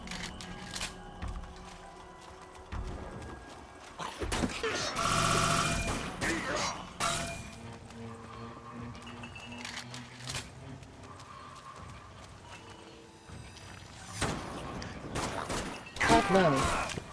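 Rifle gunfire in the zombie shooter Dead Nation, sharp bursts of shots in separate clusters among other game effects, loud against a quieter background.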